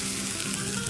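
Aubergine pieces frying in hot oil, a dense, continuous close sizzle filling the whole brief moment with no voices.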